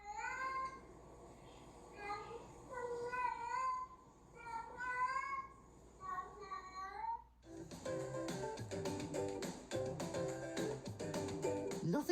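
A video game cat meows in a string of short, high, close calls over soft background music. Busier game music with bright chiming effects then takes over.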